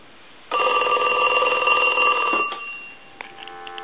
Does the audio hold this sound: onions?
no